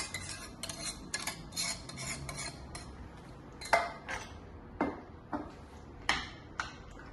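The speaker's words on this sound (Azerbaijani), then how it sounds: "Bu beşamel sosu buna qarışdırıram" Béchamel sauce of butter, flour and milk being stirred into an oven-baked eggplant casserole, with spoon scrapes and taps against the dish repeating irregularly, close and fairly quiet, with a few sharper clinks.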